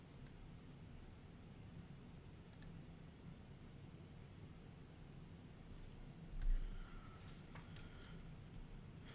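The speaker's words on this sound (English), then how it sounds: "we're going to go ahead and click calculate." A computer mouse clicking a calculate button in analytics software: a few sparse, quiet clicks spread over several seconds against a faint, steady background hiss, with no talking.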